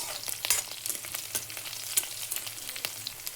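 Cumin seeds, chopped garlic, finely cut green chillies and a dried red chilli fry in hot oil, making a steady hiss with scattered crackles and pops that stays fairly quiet throughout, with no voices.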